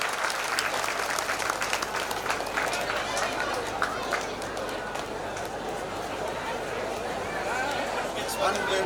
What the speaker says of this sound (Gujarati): જોરદાર તાળીઓથી અભિવાદન કરીએ છીએ આપણે